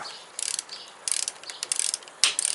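A ratchet wrench with a 7/16 socket clicks in rapid bursts while tightening the battery bolt on a Harley Sportster, several short runs of close, crisp pawl clicks separated by brief pauses.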